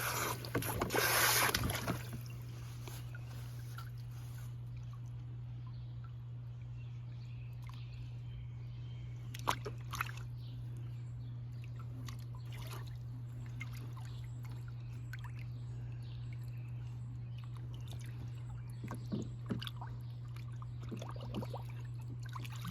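A dog splashes in a backyard pool while playing with toys: one loud splash at the start, then sparse, quiet sloshes and drips over a steady low electrical hum.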